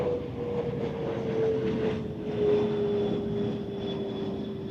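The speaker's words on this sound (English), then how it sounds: "Yeah, looks like a Challenger. Bombardier Challenger 600, I would guess." A Bombardier Challenger 600 business jet at Zurich Airport on a crosswind day gives a steady, droning engine whine with a slowly falling tone, moderately loud and continuous, with no talk.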